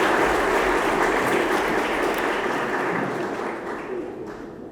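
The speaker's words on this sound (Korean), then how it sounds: "이제 두 부부의 탄생을 큰 박수로 축하해 주시기를 부탁드립니다." Wedding guests applaud the newly married couple at the ceremony, a dense, steady wash of clapping from a large crowd that stays loud before easing off slightly toward the end.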